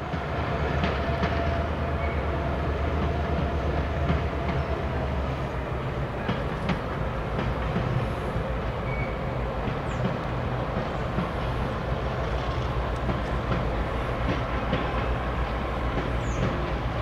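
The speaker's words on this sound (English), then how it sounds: "The Noon Gorge train was making its way back into Jim Thorpe, crossing the Lehigh River shortly after my arrival" The Noon Gorge scenic excursion train rolls across a bridge over the Lehigh River near Jim Thorpe, a steady rumbling drone with faint wheel clatter sustained throughout, heard from a distance outdoors.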